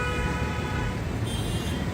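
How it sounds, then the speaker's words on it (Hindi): Car horns honk on a busy road where traffic is blocked by an aircraft stuck under a bridge. The tones are steady and overlapping over a dense rumble of traffic, with no voices. "गाड़ियों में मौजूद लोग इसे आगे से हटने का कहने के लिए हॉर्न पर हॉर्न देते रहे।"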